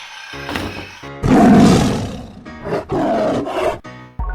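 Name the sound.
tiger roaring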